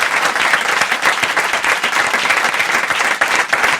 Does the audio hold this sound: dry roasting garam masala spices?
no